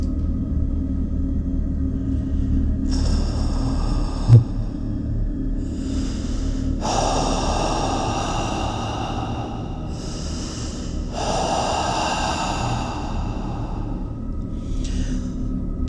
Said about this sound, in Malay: telinga aku terdengar bunyi nafas lelah bergema di belakang aku.